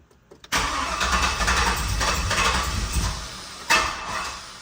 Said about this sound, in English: Oh, easy on the starter there, Barry.